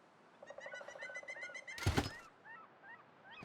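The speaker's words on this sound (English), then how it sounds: "Seagulls. Heard them that time." Seagull calls in The Long Dark on a coastal highway, a series of high, wavering cries repeating near the start and again more faintly later, broken by a brief loud thump in the middle.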